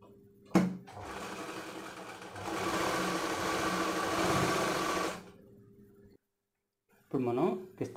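A sewing machine stitches a dhoti pyjama in one sustained run of a few seconds, with brief start-and-stop bursts around it and a short stretch of speech at the end.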